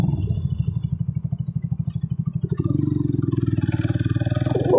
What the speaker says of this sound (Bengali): ওই যে আমাদের বাইকগুলো আসছে পিছনে